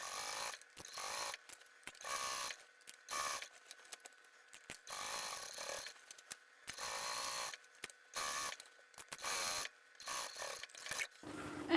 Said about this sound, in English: now that the top stitching is done